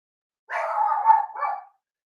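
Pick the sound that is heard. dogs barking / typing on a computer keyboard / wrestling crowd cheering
dogs barking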